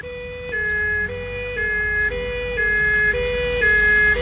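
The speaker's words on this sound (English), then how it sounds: "Sound all warning systems." A warning siren wails in a steady two-tone cycle, alternating high and low pitches about every half second, loud and continuous with low rumbling underneath, aboard a runaway vehicle in a science-fiction series.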